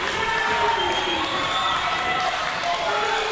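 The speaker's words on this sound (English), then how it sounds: "The crowd is going banana here at Marlington, home of the Dukes." A wrestling crowd at Marlington, home of the Dukes, roars steadily and loudly during a tag-team championship match, a dense continuous wash of cheering with no breaks.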